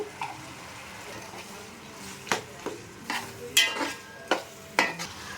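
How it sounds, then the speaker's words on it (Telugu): Tomatoes with rock salt and turmeric stirred in oil in a pan, a spoon scraping and clinking in a handful of distinct strokes over a soft frying sizzle, close and fairly quiet. "సో బాగా కలుపుకోవాలి, మిక్స్ చేయాలి."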